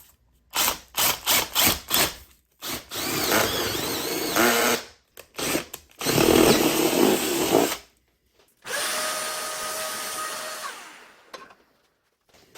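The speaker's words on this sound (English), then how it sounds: "I need to drill a hole down here for all these wires to feed through" A power drill bores a hole for wiring beneath a model train layout, with several short rapid bursts followed by longer sustained drilling runs, close and loud, with pauses between.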